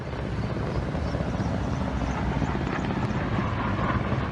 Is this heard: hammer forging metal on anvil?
no